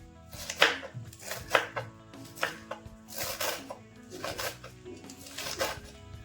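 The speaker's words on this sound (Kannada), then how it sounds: "ಇವಾಗ ಇದನ್ನ ಕಟ್ ಮಾಡ್ಕೊಂಡ್ಬಿಡೋಣ. ಆದಷ್ಟು ಸಣ್ಣ ಕಟ್ ಮಾಡ್ಕೋಬೇಕು." Palak spinach is chopped finely with a knife in a home kitchen, giving a run of sharp, close blade strikes in an uneven rhythm of roughly six to eight chops.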